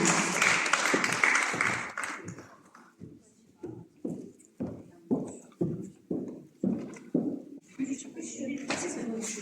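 An audience at a ceremony honouring martyrs' mothers breaks into applause after a voice over loudspeakers, then claps in slow, even unison beats that build in loudness.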